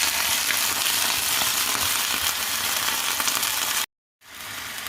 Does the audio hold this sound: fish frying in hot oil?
yes